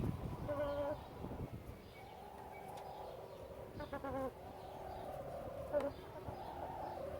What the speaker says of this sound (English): I've got a chicken in there making some very funny noises.